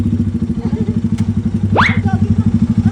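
A motorcycle idles close by with a rapid, even pulsing throb during a test drive, while a brief rising whoop of a voice cuts across it near the end.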